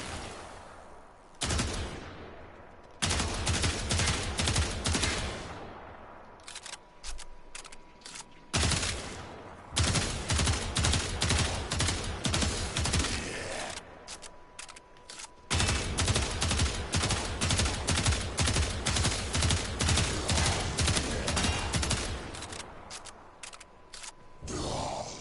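Rapid automatic gunfire from a weapon in a PS4 video game, fired in long sustained bursts with short pauses between them, loud and close, with no talking over it.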